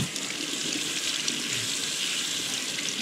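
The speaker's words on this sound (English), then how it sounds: "So I'll cut the water on" Tap water runs steadily into a sink to rinse freshly caught fish, a constant close hiss of flowing water with no talk.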